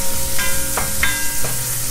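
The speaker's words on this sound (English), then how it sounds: "Something is frying." Food sizzles in a pan during home cooking, a steady broadband hiss with a few brief louder spits and crackles, close and continuous.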